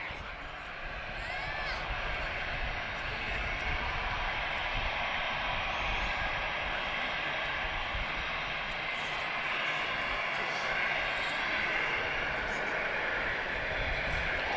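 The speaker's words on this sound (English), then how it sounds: "Let's capture the engine sound of this." A jet aircraft engine roars steadily from a distance at Lisbon Airport, a broad sustained whine and rumble that swells slightly and holds for the whole stretch.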